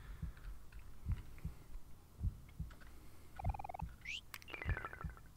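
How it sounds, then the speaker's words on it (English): A steady, looping heartbeat effect from the video game OMORI thumps in slow double pulses at an even rhythm, with soft chimes and blips from the game over the top. "I don't like the heartbeat."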